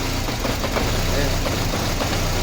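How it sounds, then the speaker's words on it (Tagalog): A Nissan Almera's engine misfiring and sputtering at idle while in drive, shaking the whole car, heard as a loud, rough, uneven engine rumble up close with a voice talking over it. "Gumayanig yung buong makina, pati yung body kasama."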